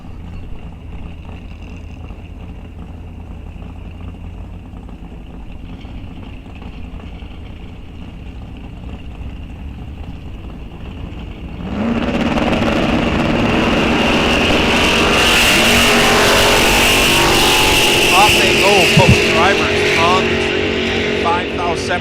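A 1970 Plymouth Cuda idles at a drag strip, then launches with a sudden, sustained roar of its engine from mid-clip onward, loud and close, while a race announcer talks throughout.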